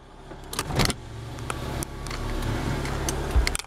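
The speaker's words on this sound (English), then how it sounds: "Power windows work." Power windows on a car whirring as they move, a close motor hum running for a couple of seconds between clicks and small bumps, no talking.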